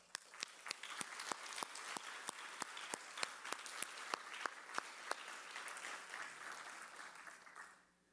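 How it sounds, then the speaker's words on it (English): Applause after a dance performance at an award ceremony, heard as faint, sparse claps standing out one by one at a steady rhythm over a soft wash, fading out toward the end. "Let's keep the applause going for the uplifting and inspiring dance performance by Parul Shah."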